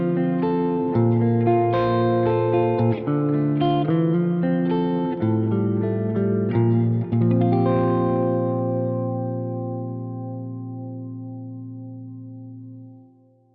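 Heavily reverberant electric guitar chords run through the Archetype: Plini X plugin with its space control maxed, ringing out loud with a long wash that fades over the final seconds.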